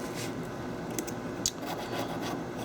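Metal prying tool sliding along the frame of an iPad Mini during a screen and digitizer replacement, a faint steady scratching rub with a couple of small clicks, close and quiet.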